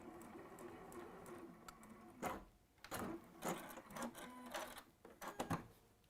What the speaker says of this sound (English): you will find that your machine is quite happy to do this gentle curve, and with a little guidance